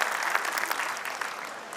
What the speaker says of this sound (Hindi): आप सभी से अनुरोध है कि तालियों के साथ स्वागत करें योगेश शर्मा जी